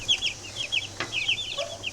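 Young chicks give rapid high peeps and soft clucks in a brooder, several short calls overlapping close by, with a low background hum.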